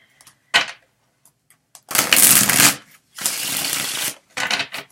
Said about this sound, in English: I'm going to take out my cards.